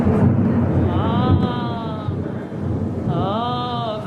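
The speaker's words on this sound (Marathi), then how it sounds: "ते असंच गडगड गडगड आवाज येतो पावसाचा" Thunder rumbles continuously through a rainstorm, a loud, steady low roar lasting the whole stretch, with a faint animal bleat rising over it twice.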